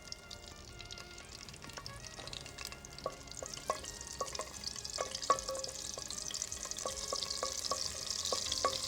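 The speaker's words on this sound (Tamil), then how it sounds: "ஸோ நம்ம ஜஸ்ட்டு பச்சை மிளகா மட்டும் இப்போ தாளிக்க போகிறோம்." Green chilies crackle and sizzle in hot oil, sharp pops scattered over a steady hiss that grows louder toward the end, with no talking.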